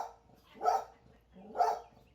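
A dog barks twice at a delivery arriving at the house, the two low, gruff woofs about a second apart, close and fairly loud in a quiet room.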